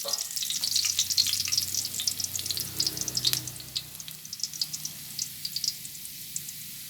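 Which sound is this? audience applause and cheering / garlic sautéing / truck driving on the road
garlic sautéing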